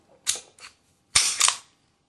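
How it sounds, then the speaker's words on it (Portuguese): A Taurus PT838 .380 ACP pistol slide is pulled back and locks, giving two close, crisp metallic clacks, each followed by a shorter click, with quiet between. "Basta vir com o ferrolho para trás que ela trava"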